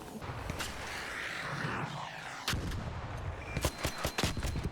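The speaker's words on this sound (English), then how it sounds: "when you are fighting against the bombardiers, you actually can indeed shoot out their missiles" Rapid gunfire in the ARC Raiders video game as shots are aimed at incoming bombardier missiles, sharp repeated bursts and single cracks over a rumbling game background.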